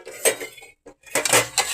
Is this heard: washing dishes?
yes